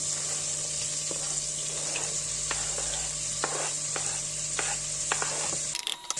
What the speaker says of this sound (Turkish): Havuç ve soğanı biraz yumuşayana kadar kavuruyorum